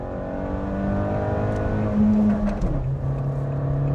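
A Fiat Argo Trekking's engine revs hard while accelerating in second gear, a loud steady drone whose pitch rises, dips briefly at a shift-like break, then holds on, with no talking.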